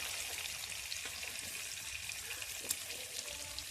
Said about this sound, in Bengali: মাংসের আলু একটু লাল লাল করে না ভাজলে ভালো লাগবে না।